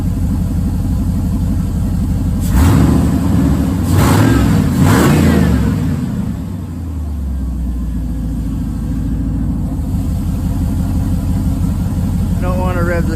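A 5.3 LS V8 swapped into a 1980s Pontiac Firebird cold-starts on a cold Canadian day. It cranks and catches, then blips through a few loud revs that settle into a lumpy, rumbling idle.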